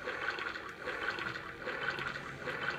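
Toilet flushing in the horror video game Desert Nightmare: a steady rushing, gurgling water flow that holds at an even level for about three seconds, with no talking over it.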